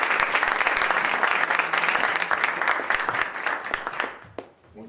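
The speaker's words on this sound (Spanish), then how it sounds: "les pido un aplauso" Sustained applause from an audience at an academic event at ITAM, a dense, loud wash of clapping that carries on for about four seconds before tapering off into a few scattered claps.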